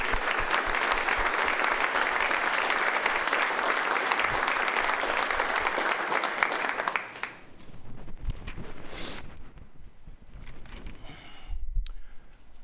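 A large audience at a city's State of the City address bursts into sustained applause, a thick steady roar of clapping for about seven seconds that tapers into quieter room noise.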